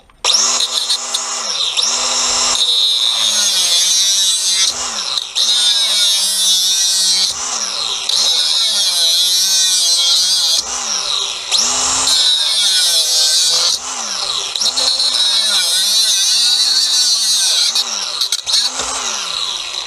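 A fake DeWalt XR cut-off tool bites into copper pipe, its high motor whine rising and dipping in repeated bursts of cutting with short pauses between, close and loud for the whole stretch.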